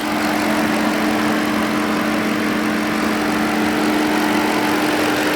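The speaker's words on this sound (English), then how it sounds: "Let's go back to it, so I can let you hear the engine." The 5.7 HEMI V8 of a 2020 Dodge Charger police car idles steadily with a low, constant hum and a fan-like whir, unbroken and close, with no talking.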